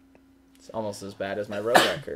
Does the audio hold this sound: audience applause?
no